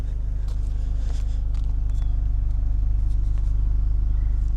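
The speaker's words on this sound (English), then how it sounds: "You have this kind of a dual exit exhaust." A 2022 Hyundai Sonata N-Line with a dual exit exhaust runs at idle, giving a steady, low, fairly quiet engine rumble with an even throb and no talking over it.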